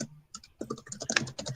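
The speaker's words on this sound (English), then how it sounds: "we can hear you typing" Someone types on a computer keyboard close to the microphone, a quick irregular run of clicking keystrokes that grows denser after a brief pause.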